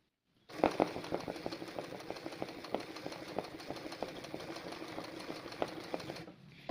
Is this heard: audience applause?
no